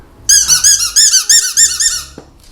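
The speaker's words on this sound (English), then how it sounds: "Alright, so they like the squeaky toy, if you didn't see." A squeaky dog chew toy being chewed or squeezed, giving a rapid series of high, loud, close squeaks in quick bursts for about two seconds, then stopping.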